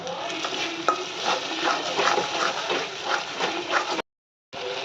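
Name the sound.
sautéing masala in oil with Kashmiri red chili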